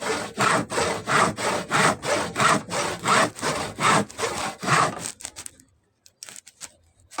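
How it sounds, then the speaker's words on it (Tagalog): A hand saw cuts through hard wood for a doormat frame in a steady back-and-forth rhythm of about a dozen rasping strokes, close and loud, then stops into near silence with a few faint knocks. "Medyo mahirap kasi sa kahoy. Yung kahoy ba? Medyo matigas. Lagari ang lagari."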